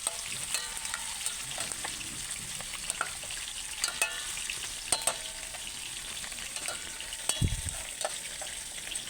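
Tilapia frying in a pan sizzles steadily for the whole stretch, with scattered crackles and pops and a few louder spatters, heard close with no voices.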